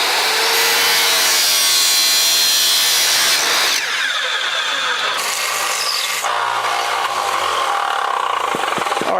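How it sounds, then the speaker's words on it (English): A saw cuts through a golf club shaft during club repair, making loud, close, harsh rasping strokes that shift in pitch across a few sections, with brief pauses between passes and no talking. "I'm going to cut just on the outside of my line to make sure I have some extra room in case."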